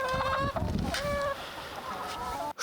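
Chickens clucking nearby, several overlapping bird calls in quick succession, fairly loud with no talking.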